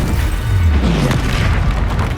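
Spell-cast explosion from combat in the Hogwarts Legacy video game, a deep rumbling boom that swells loudly and holds through a dense, continuous wash of magical blast noise.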